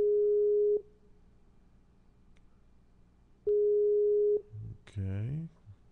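A steady telephone ringing tone sounds twice in long even bursts separated by silence, followed by a brief voice.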